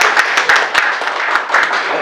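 An audience claps during a Lions Club governor's visit in Aluva, a short, loud, close burst of scattered hand claps with uneven rhythm.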